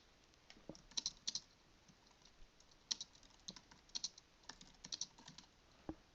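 Quick, irregular keystrokes on a computer keyboard click in short bursts and scattered single taps over a quiet room, close by and fairly soft, with no speech.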